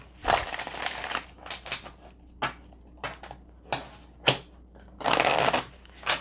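A deck of oracle cards is shuffled by hand at close range, giving bursts of riffling and flicking with short pauses between and a longer, denser riffle near the end.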